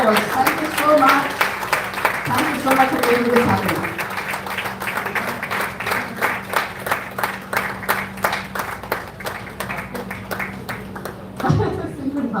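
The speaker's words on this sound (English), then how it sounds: "Can we give you a really good round of applause?" An audience claps at an evening event, keeping up a steady, dense stream of claps for several seconds. A voice talks over the opening and another speaks briefly near the end.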